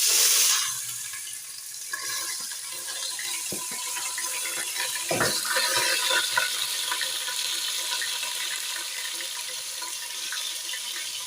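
Rice is poured into hot cooking oil for a beef stew, sizzling and hissing continuously, with a brief clatter of the pot partway through, no talking.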